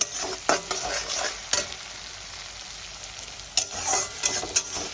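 Onions frying in oil in a pan until golden brown, a steady close sizzle broken by several sharp scraping stirs of a spatula, no voices.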